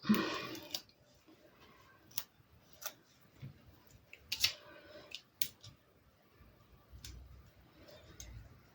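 Scattered snips and clicks of glue-sticky scissors, a few sharp cuts spaced apart over a quiet background, close by.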